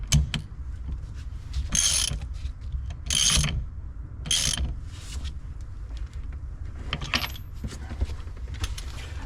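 Ratchet wrench tightening the steering shaft nut on a Deutz Fahr 5125 tractor, with repeated bursts of clicking pawl strokes between quieter mechanical handling, close and fairly loud, no talking.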